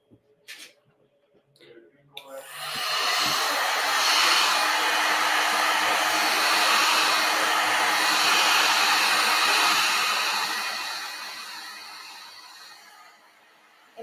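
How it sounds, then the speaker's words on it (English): A heat gun blows steadily over a finished embroidery piece, shrinking leftover foam and clearing stabilizer. Its hot-air roar starts abruptly after a few soft handling clicks, holds loud and even for about ten seconds, then tapers off near the end. "run my heat gun over it"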